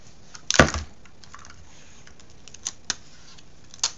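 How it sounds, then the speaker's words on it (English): Scotch tape is pulled and run around the outside of a rubber mold, with one short crackling rip near the start and a few faint taps and clicks afterward in a quiet room. "As I run scotch tape around the outside of it."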